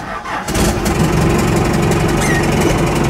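A Cummins diesel engine fitted in a Ford F150 turns over and catches, then settles into a loud, close, steady clattering idle with a rhythmic low knock and no talking.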